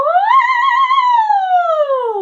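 A singing voice imitates a siren as a vocal warm-up: a single clear, sustained tone slides up, holds high, then glides slowly back down, loud and alone.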